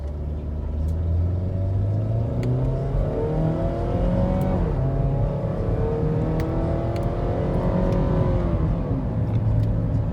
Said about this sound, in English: Nothing wrong on the bottom end of this motor at all.